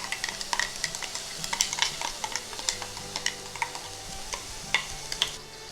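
Onion, ginger and garlic paste sizzling in hot mustard oil in a pan, a steady close crackle with frequent stirring scrapes and light utensil clinks, no talking.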